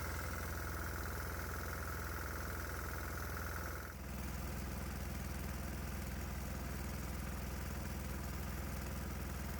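A steady diesel engine drone runs throughout, low rumble with a constant hum, shifting slightly in tone partway through, no voices; the engine is running on added hydrogen and oxygen (HHO) gas.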